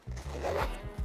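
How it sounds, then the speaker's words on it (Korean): A zipper on a leather bag is pulled closed in a few rasping strokes, close and fairly loud, with no talking over it. "근데 여기 중간에 또 지퍼가 있어."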